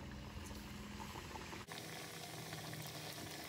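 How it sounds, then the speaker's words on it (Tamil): Potato curry puffs with butter in the pastry deep-fry in hot oil, a dense, steady bubbling sizzle heard up close, with a brief dip partway through before the frying continues. "இப்போ இதை ஒன்று ஒன்றா போட்டு நம்ம பொறிச்சு எடுத்துக்கலாம்."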